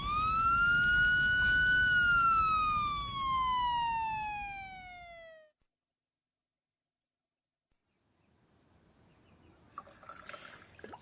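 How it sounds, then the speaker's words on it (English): Ambulance siren in a radio drama, a single loud wail that sweeps up then slowly falls over about five seconds and cuts off abruptly, followed by silence and faint movement noises. "The ambulance is coming."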